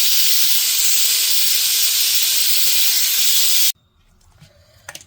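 A pressure cooker boiling taro root vents steam in a loud, steady hiss close by for several seconds, then cuts off suddenly, leaving quiet kitchen clatter.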